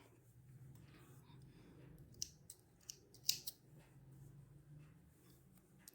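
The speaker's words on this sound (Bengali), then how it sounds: "তো আমি এখন এই সুতাটা কেটে ফেলবো।" Scissors snip crochet thread during earring making, a few quiet, sharp cuts close up, spaced out over a faint background hum with no talk.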